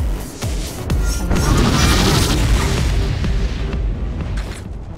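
Core firing in the Heroes of the Storm video game, a loud booming explosion with a heavy rumbling body that swells and sustains before slowly fading.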